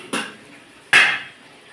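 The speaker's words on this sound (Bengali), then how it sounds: "ঢাকাটা খুলে একবার দেখে নেব" A lid is lifted off a cooking pot of Bengali cabbage curry, making two sharp metallic clinks roughly a second apart, the second louder and ringing briefly.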